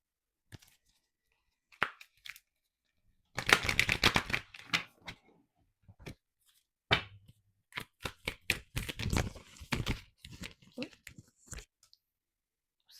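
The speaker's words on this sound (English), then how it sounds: "Let's shuffle." Tarot cards being shuffled in bursts of riffling and flicking, with a sustained shuffle in the middle and scattered card snaps after, close and fairly quiet.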